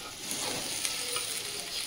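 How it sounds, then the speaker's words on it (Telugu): Tomato goes into onions frying in a pan for a South Indian pachadi, making a quiet, steady sizzle with a few faint stirring clicks. "ఇప్పుడు మనం టమాటా యాడ్ చేసుకుందాం."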